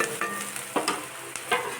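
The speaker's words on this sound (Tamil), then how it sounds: "வெங்காயத்தை நல்லா வதக்கிடலாம்" Onions sizzle and fry in a pan, with a few scraping stirs at irregular moments and a steady hiss underneath; no voices.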